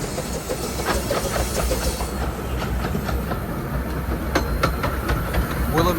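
Diesel locomotive passing over a railway bridge above at a heritage railway gala, a continuous loud rumble and hiss with rhythmic clickety-clack from the wheels.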